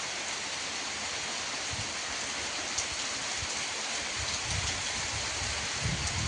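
Rain falls steadily on a rural farm, a continuous broadband hiss with scattered soft low thumps of drops, unbroken for the whole stretch with no one talking.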